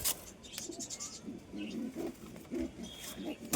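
Several pigeons coo in soft, repeated low burbles close by, overlapping with some scratching and faint background noise.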